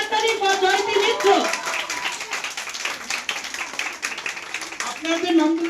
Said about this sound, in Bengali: খুব জোরে হাততালি ফর জয়তী মিত্র।